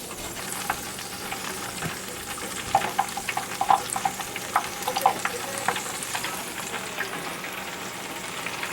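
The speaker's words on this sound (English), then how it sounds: "So I'm going to go ahead and cook up my other batch of fries." Potato fries bubbling in a deep fryer, a steady dense sizzle with scattered louder crackles and pops throughout, close by and with no talking.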